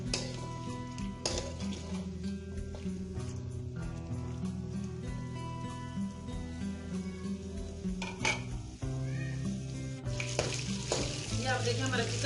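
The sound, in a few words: chicken frying in a karahi over medium heat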